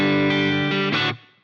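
Guitar chord through a Two Notes Genome reverb set to a shorter decay, ringing out bright and full before the tail fades away quickly, heard alone.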